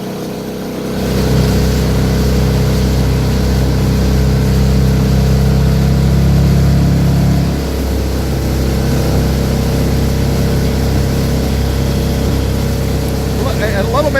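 A motorboat engine on a lake holds a loud, steady drone, climbing as the throttle opens near the start and easing slightly partway through, close and continuous throughout.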